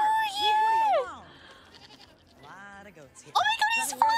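Goats bleat loudly and up close in wavering, overlapping cries, with a short pause before another burst of bleating, mixed with excited human voices.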